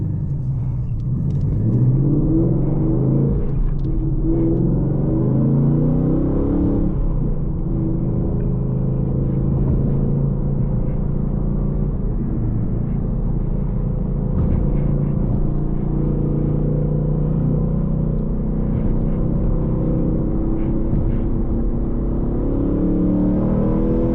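A Roush supercharged 2019 Mustang GT rumbles from inside the cabin as it accelerates at full throttle, a deep, rising engine roar with a few gear changes, no voices present.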